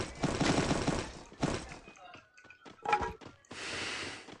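Bursts of gunfire in the mobile battle-royale game Free Fire, loud dense volleys alternating with sharper isolated shots and brief gaps, with players talking over the action.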